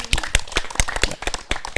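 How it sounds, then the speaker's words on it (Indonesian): Scattered handclaps ring out during an Indonesian radio culture talk show about Renganis folk art. Sharp, uneven claps sound close and fairly quiet, more like a small group than a full crowd. "Tepuk tangan Dumun"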